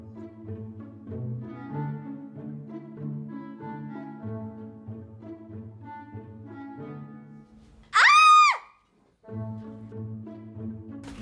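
A woman screams in fright at a cockroach in a Hindi sci-fi film, a brief loud shriek about a second long that cuts through background music.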